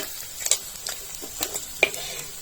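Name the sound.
garai fish frying in a pan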